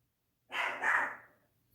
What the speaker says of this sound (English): My dog out there barking.